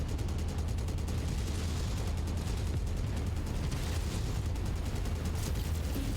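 Heavy mech weapons in MechWarrior fire nonstop at a Vindicator mech, a dense rumbling barrage of rapid repeated shots and blasts, loud and continuous throughout.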